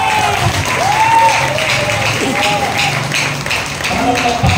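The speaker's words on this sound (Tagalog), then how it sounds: "yung palakpak nyo parang nagpapatay kayo ng lamok" A church crowd in Baseco, Tondo, Manila, claps in sparse, light, scattered applause, continuous but thin, while a preacher's voice rises and falls over it.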